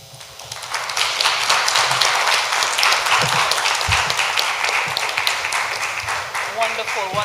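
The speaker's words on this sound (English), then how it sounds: "I didn't have to tell you clap because you knew what you were supposed to do" Audience applause at a secondary school spelling bee, a dense steady wash of many hands clapping that swells quickly and holds strong throughout, with faint voices underneath near the end.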